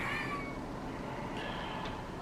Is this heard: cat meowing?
yes